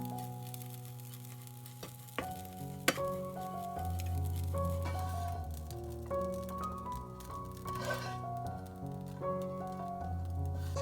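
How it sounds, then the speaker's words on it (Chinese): Shredded chicken floss is pounded and stir-fried in a nonstick pan: a spatula clinks and taps against the pan over a soft dry rustle, with light music playing throughout. "不停重复拍打、翻炒、揉搓的动作，鸡丝很快就炒松了。"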